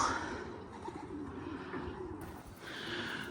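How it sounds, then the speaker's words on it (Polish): A racing pigeon settles at the loft after a long competition flight from Telgte, with soft cooing from the birds over steady outdoor ambience, fairly faint and without talk. "siada po minimalnej przerwie kolejny gołąb"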